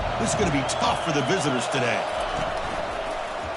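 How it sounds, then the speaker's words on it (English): Fired-up crowd roaring at a college football game against Oklahoma State, a steady dense wash of voices filling the stadium under a commentator's talk throughout. "this crowd is fired up. Listen to this noise here."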